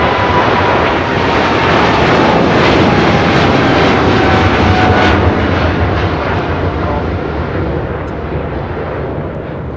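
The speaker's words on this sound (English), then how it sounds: "This is Nippon Cargo Airlines 101 taking off to Tokyo Narita on a 13-year-old 747-8 freighter." A 13-year-old Nippon Cargo Airlines Boeing 747-8 freighter takes off from LAX with a loud, steady jet roar that fills the air and fades only slightly toward the end.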